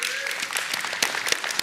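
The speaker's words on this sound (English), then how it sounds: "I was gonna signal the applause later, but I love the enthusiasm" An audience at a tech conference keynote applauds in a steady, full burst of clapping, with a voice briefly audible over the crowd.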